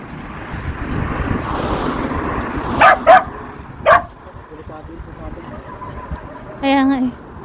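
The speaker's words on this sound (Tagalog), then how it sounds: "Ayun, may tuta pa pala nga doon oh." A stray puppy yips and barks in short bursts, a few sharp calls near the middle and a longer run near the end, heard outdoors over a steady background rumble while people talk.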